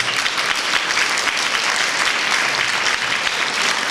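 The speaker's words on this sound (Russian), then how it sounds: "Аплодисменты гостям, которые приехали поддержать и насладиться творчеством оркестра народных инструментов." An audience at a folk instrument orchestra concert applauds, dense steady clapping from many hands filling the hall without pause.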